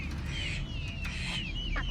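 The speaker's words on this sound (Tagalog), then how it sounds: "ito yung manok" Chickens cluck and chirp over a low background rumble, the calls short and scattered across the moment.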